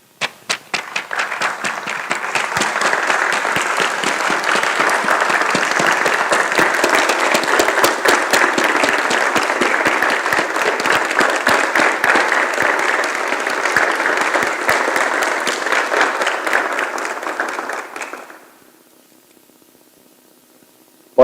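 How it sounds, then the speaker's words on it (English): A graduation ceremony audience applauds families and sponsors, loud sustained clapping from a large crowd that swells, holds for about seventeen seconds, then stops abruptly into quiet room tone. "and let's applaud them."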